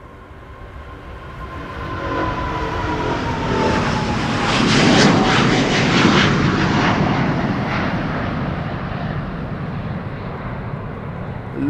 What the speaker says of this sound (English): The sounds you're hearing is an A350, Delta Airlines to Atlanta.